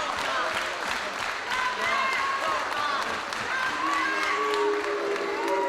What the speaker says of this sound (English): these fans cheering for Matt Sydal, an American, while we're in England.